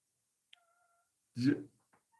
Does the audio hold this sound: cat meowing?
yes